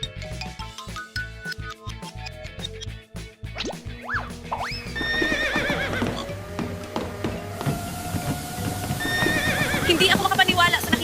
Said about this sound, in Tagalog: Pinatayo mo ang kabayo sa treadmill, masisira niya yan!